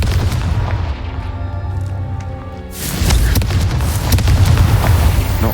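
A Confringo explosion spell goes off in a video game, a loud booming blast that swells partway through into a dense, rumbling burst of crackling debris with no voices over it.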